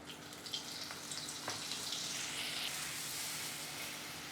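Two tablespoons of butter melt into two tablespoons of hot oil in a pan, making a steady, fairly quiet hissing sizzle that holds evenly throughout, with a few faint pops early on.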